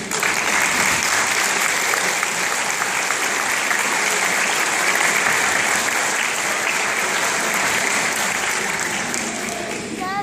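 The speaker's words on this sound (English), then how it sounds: "I encourage the graduates to stand and applaud your families for their sacrifice and unwavering support" Sustained, dense applause from graduates standing at a nursing pinning ceremony to honor their families, steady and loud for about ten seconds before tapering slightly at the end.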